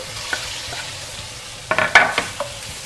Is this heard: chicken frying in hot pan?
yes